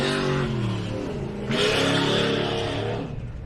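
An off-road race truck in a desert endurance race roars close by, its engine note holding strong and rising again as it pulls away, loud with no speech.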